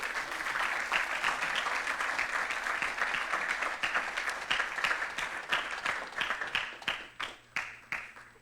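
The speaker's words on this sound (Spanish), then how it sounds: "Dele palmas al Señor." A church congregation claps for the Lord during a Spanish-language service, dense sustained applause that thins toward the end into scattered, distinct claps.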